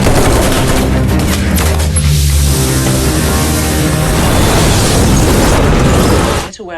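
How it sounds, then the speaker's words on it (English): A huge explosion in an action killer movie, a loud, sustained roaring blast with crackling debris that fills several seconds before cutting off abruptly. "What was that explosion?"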